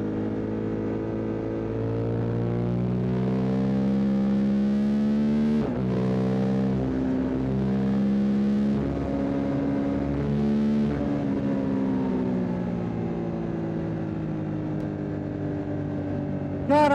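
A 2026 Suzuki GSX-8TT motorcycle engine hums steadily while riding, its pitch rising and easing with throttle changes, with a sharper rise at the very end.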